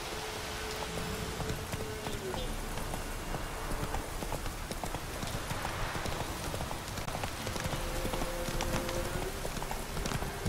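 Horse hooves clip-clopping steadily in The Witcher 3: Wild Hunt, a continuous rhythmic trot over a rain-like hiss with faint sustained musical tones.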